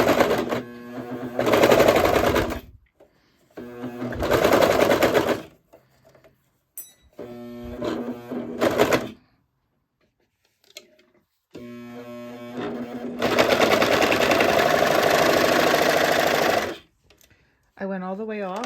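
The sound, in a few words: sewing machine trimming and zigzag stitching fabric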